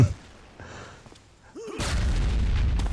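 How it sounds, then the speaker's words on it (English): Grenades explode in a video game: a dull thump comes first, then after a brief lull a loud, broad boom hits and rumbles on steadily to the end. "He's even throwing some grenades up there."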